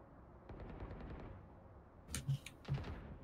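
Valorant gunfire sounds faint and distant: a light run of rapid ticking shots, then a few louder cracks in a short burst near the end, over a quiet background.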